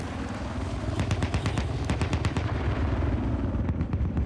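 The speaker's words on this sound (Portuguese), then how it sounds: "Tem um merdinha atirando em mim aqui pra variar" Enemy fire aimed at the player in a shooter game: bursts of sharp, rapid gunshots cracking in quick succession, loud and near, then thinning to a few scattered shots, with no talk over them.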